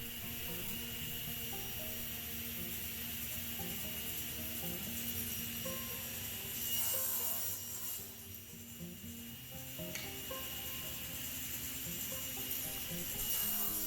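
A power saw cuts through a piece of red oak meant for a crossbow bow, a loud continuous mechanical whine and drone holding steady throughout with a slight swell midway.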